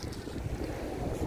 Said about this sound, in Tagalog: Napaka hangin at fresh ng hangin dito. Sa tabi ng dagat.